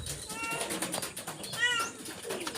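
Pigeons cooing close by in soft repeated bursts, with a person talking quietly over them.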